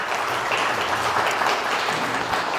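Hearty burst of audience applause at a lecture as a guest, a former city council chairman, is welcomed, a dense, close wash of clapping with no speech over it.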